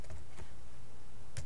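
Sparse keystrokes on a computer keyboard, a few quick, close clicks spaced irregularly with no talking.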